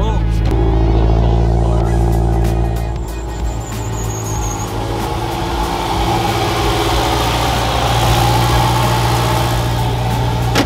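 2022 Subaru BRZ turbo engine firing up and settling into a loud, steady idle close by, with a brief squeal early on and someone speaking quietly over it.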